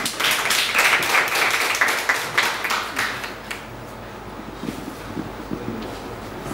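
An audience claps to welcome a speaker at a Jiaodian Taichung talk. Dense applause is loud for about three seconds, then thins into scattered claps and room noise.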